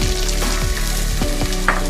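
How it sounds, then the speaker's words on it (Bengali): Boiled chickpeas are tipped into a pan of frying potatoes for a spicy ghugni, setting off a loud, continuous close-up sizzle with stirring scrapes throughout and no voices. "আমি এখন সিদ্ধ করা বুটটা পুরোটাই দিয়ে দেব।"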